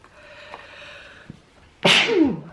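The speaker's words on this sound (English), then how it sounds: "I feel like I have to sneeze." A single sharp sneeze bursts out after a quiet stretch with faint background hum.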